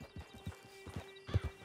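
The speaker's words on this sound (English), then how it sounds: "Get on the horse when you're ready." Horse hooves clip-clop in the Red Dead Online video game, a quick series of soft, close hoofbeats in an uneven walking rhythm at low volume.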